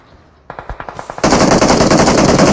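Gunfire from a mobile battle royale game played on an iPhone 11: a quick run of separate shots gives way to loud, sustained automatic fire, close and with no voices.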